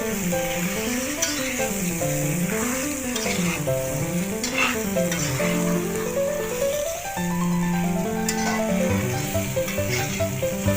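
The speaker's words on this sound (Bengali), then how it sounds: "নুন আর হলুদটা ভালোভাবে আমের গায়ে মাখিয়ে নিচ্ছি।" Raw mango pieces tossed with salt and turmeric in hot oil give a continuous sizzle and stirring, steady throughout and partly masked by background music with a wavering melody.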